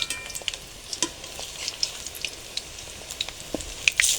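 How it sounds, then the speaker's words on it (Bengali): Pumpkin flower fritters frying gently on low heat in oil, a soft continuous sizzle with scattered light pops and crackles throughout. "চপটা খুবই কম আঁচে ভাজতে হয়"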